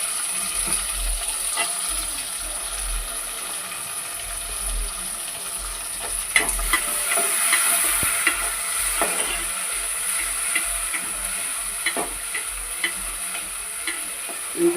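Onions and tomatoes fry for a village-style duck curry, giving a continuous bright sizzle with scattered scrapes and clicks of stirring throughout, close and steady.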